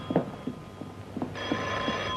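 An old telephone bell starts ringing partway through, a bright sustained ring, fairly close, after a few soft knocks and rustles in a quiet room.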